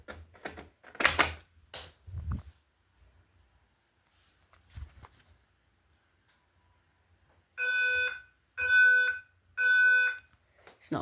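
The speaker of a DIY fire alarm system sounds three loud, evenly spaced electronic tone blasts, each about a second long, after scattered handling knocks and clatter.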